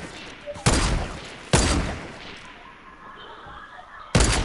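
Heavy gunshots in a video game, three loud separate blasts spaced a second or more apart, each with a booming tail that fades between shots.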